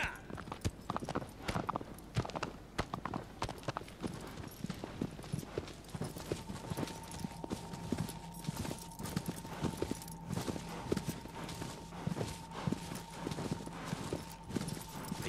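A horse gallops in Shadow of the Colossus with steady, rhythmic clip-clop hoofbeats that run continuously, joined partway through by a faint sustained tone.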